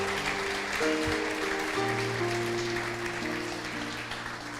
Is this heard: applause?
yes